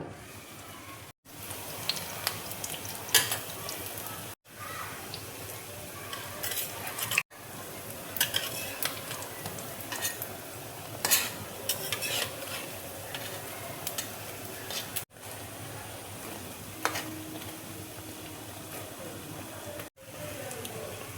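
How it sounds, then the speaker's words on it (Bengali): Bread slices fry in hot ghee in a wok with a steady soft sizzle, broken by repeated scraping, stirring and clinks of a utensil against the pan. "কড়াইয়ে দেখো ঘি দিয়েছি, ঘি দেখো গরম হয়ে গেছে। এবার আমি পাউরুটিগুলো দেখো ভেজে নেব।"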